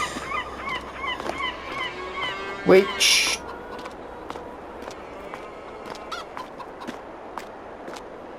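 Farm chickens in Farming Simulator 22 cluck and squawk in a short series of calls, with a louder honking burst midway, while someone speaks briefly over the barnyard ambience.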